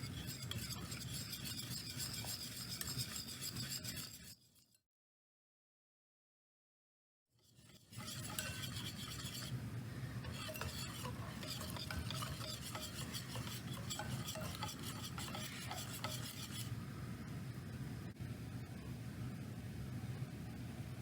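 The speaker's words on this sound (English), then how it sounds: "add 1/2 cup of milk, 1 egg, and we'll whisk that until it's smooth." Milk and an egg whisked into pancake or waffle mix until smooth, a steady scraping stir against a bowl that runs continuously, breaks off into a few seconds of silence, then resumes just as steadily.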